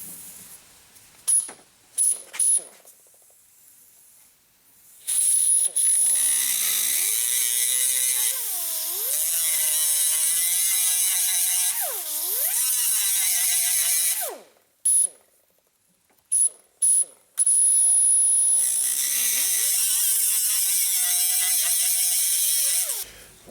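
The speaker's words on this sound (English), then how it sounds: "just going to grind these two that are easy to get to off" An angle grinder grinds spot welds off automotive sheet metal. The motor whines loud and close in bursts, and the pitch sags and recovers as the disc bites, with short pauses between passes.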